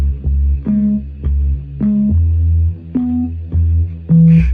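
Afrobeat bass line from a beat, deep bouncing notes in a syncopated pattern with short gaps between phrases, loud and alone.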